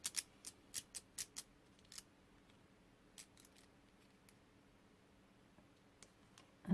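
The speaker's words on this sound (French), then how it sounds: "Deux ciseaux cranteurs" Fiskars pinking scissors snip through paper in a quick series of about six sharp crunching cuts, followed by scattered single snips and clicks, close and fairly quiet.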